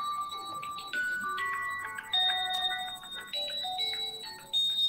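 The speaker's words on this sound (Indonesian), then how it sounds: "Bentar ya, ada telepon Pak." A phone rings with an incoming call, a melodic electronic ringtone of shifting bright tones that plays continuously in a quiet room, close and clear.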